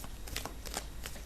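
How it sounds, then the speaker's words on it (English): Tarot cards being shuffled at close range, a few quick papery riffling bursts in a steady rhythm with no talking. "we'll get the cards shuffled out for you for this month"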